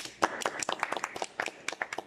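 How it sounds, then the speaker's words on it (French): A small group claps in welcome for guests at the opening of a French podcast recording, brief sharp claps scattered irregularly over two seconds, close and fairly light. "Applaudissements."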